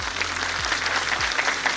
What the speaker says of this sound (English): So, can we clap?